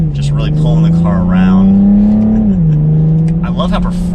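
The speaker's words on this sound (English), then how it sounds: "Oh, the engine does have a pretty cool sound." A 2021 BMW M440i xDrive coupe's engine pulls hard, its strong tone climbing steadily then dropping at a gear change, loud and close while someone talks over it.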